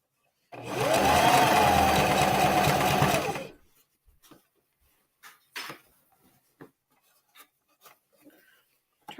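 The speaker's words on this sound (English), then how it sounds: "And I have it like backwards on the sewing machine." A sewing machine whirs loudly for about three seconds, then stops, followed by scattered soft handling clicks and rustles of fabric.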